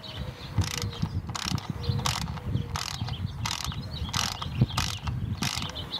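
A socket ratchet tightens a bolt on a BRAID beadlock wheel with about ten rapid, evenly spaced bursts of clicking, close and crisp, with no talk.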